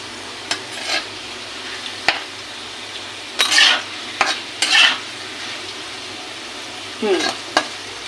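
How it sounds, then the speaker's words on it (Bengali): Whole spices fry over medium heat as a spoon stirs and scrapes the pan in a few short bursts over a low steady sizzle, close by, with no talking. "একটু নাড়িয়ে দিতে হবে যাতে গোটা মশলাগুলো না পুড়ে যায়।"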